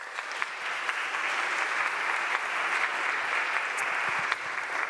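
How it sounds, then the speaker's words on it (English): A conference audience at a general meeting gives a steady round of applause, many hands clapping evenly at moderate loudness throughout, with no talk over it. "Can we give you another round of applause?"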